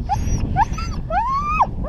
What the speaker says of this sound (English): So they make that noise because they're excited to go.